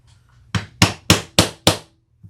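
A freshly sharpened hole punch struck with a hammer to open rivet holes in a sewing pattern flap, five sharp, evenly spaced close whacks after a faint rustle, with a soft tap at the end.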